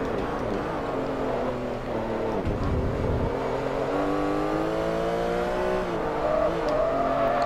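Race car engine in Forza Motorsport 3 sliding through a corner in a Class R3 world championship race, with steady revving harmonics and a rising whine, loud and continuous throughout without talk.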